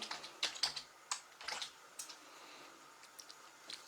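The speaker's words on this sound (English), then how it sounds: "So you just type in there sandstone," Light, irregular key taps on a computer keyboard as a search word is typed, close and fairly quiet, in quick clusters with short pauses between them.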